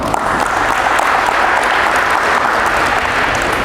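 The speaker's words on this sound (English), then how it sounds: "You guys give Matt a round of applause." Steady, dense applause from an audience, loud and continuous with no talking over it.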